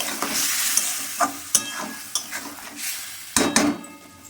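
Fish curry with warm water being stirred in a pan, a steady hiss of sizzling with repeated scraping and clinking strokes of a utensil, close and fairly loud, no talk.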